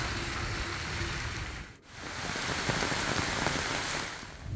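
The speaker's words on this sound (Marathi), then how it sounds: "उत्तर रायगडमध्ये खोपोली, पेण, रोहा परिसरामध्ये जोरदार पाऊस होतोय" Heavy rain pours steadily during monsoon flooding in the Khopoli, Pen and Roha area of north Raigad, a dense, continuous hiss of drops on surfaces with a brief dip partway through.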